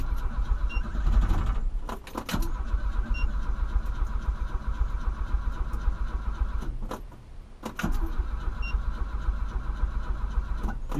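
A Volkswagen Voyage with a bad carburetor strains to start, the engine cranking and revving unevenly in loud bursts, dropping off briefly near the middle before catching and running rough again.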